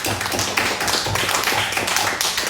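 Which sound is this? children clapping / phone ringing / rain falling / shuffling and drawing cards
children clapping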